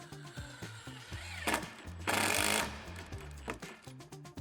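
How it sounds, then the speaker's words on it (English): An impact driver with a T25 bit whirs in short bursts, with one longer loud run in the middle as a screw is driven while installing cable railing, close by and otherwise quiet. "we're gonna use our T25 bit and our impact"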